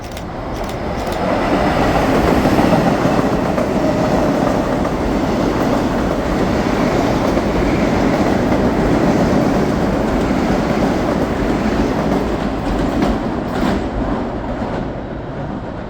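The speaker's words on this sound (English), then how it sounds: "we saw a express train heading to Grand Central with a bunch of M8s on it" A Metro-North express train of M8 cars on the New Haven line heading to Grand Central passes by, a loud, sustained roar of wheels and rumbling carriages building and holding for the whole stretch before easing slightly at the end.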